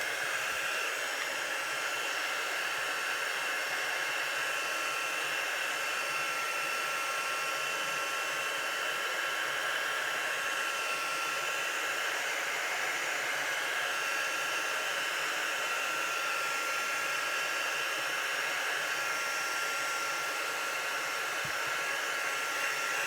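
A heat tool blows a steady, loud hiss of hot air across stamped ink on an apron, running continuously without pause and with no voices over it.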